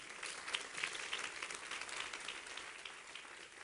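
Sustained applause from an audience, a fairly distant, even wash of many hands clapping that tapers slightly toward the end.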